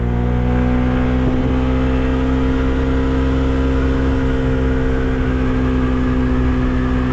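SYM Jet-X 125 scooter at full throttle, its engine droning loud and steady with a constant tonal hum and wind rush, no speech over it.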